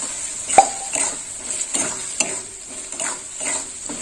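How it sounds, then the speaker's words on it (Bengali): Fennel paste gets stirred into frying egg masala curry, a steady sizzle broken by repeated scraping strokes of a spoon against the pan. "মৌরি বাটা দিয়ে একটু নেড়ে ছেড়ে নেব"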